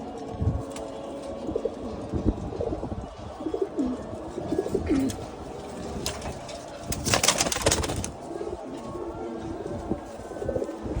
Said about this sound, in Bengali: আমাদের বাসার সবচেয়ে মোস্ট সিনিয়র একটা কবুতর।